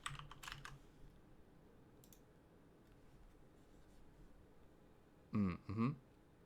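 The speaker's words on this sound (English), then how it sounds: "I can type, really." Typing on a computer keyboard comes in a short flurry of clicks at the start and a few lone taps later, all quiet and close. A brief voice sound or throat clearing follows near the end.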